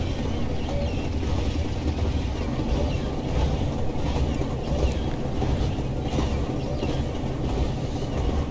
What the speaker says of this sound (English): this very low droning noise that you have on those old diesel engines